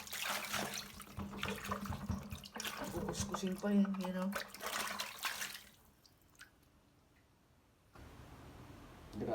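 Tap water with a rusty smell runs into a bucket, a splashing, trickling stream under someone speaking Filipino, then fading to quiet drips near the end.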